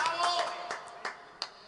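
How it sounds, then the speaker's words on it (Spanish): The last of a TV studio audience's applause on an Ecuadorian music show: a few faint, scattered hand claps tapering off into near silence. "Gracias por su aplauso."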